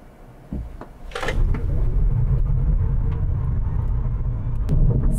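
A 2022 Kia Niro EV S electric car accelerates hard from a standstill, a low steady road rumble and tyre noise building and holding loud and close, with a brief knock near the start.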